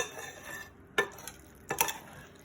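Spoon stirring Italian potato salad with eggs in a bowl, two distinct close scraping strokes over a faint background hiss, no talking.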